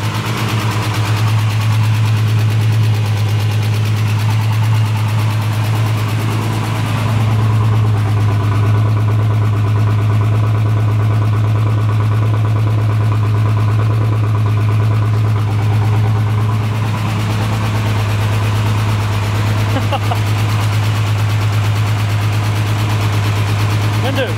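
A BMW E30 engine idles with a deep, steady rumble and constant vibration, loud and close, while people talk over it.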